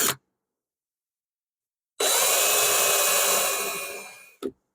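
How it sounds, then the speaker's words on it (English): Power drill countersinking holes in a wooden board for a box joint sled: one burst of about two and a half seconds of whirring bit cutting into wood, close and loud, between short silent gaps. "So now we want to countersink both of these."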